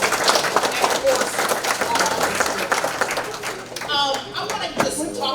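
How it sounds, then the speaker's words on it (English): A packed room applauds at a Mississippi culture event, giving loud, close clapping with sharp individual claps, while voices and cheers mix in toward the end. "let's give everybody a round of applause for coming out"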